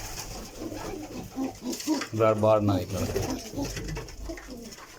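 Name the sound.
pigeons cooing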